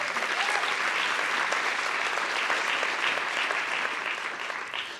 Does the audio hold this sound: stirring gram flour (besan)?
no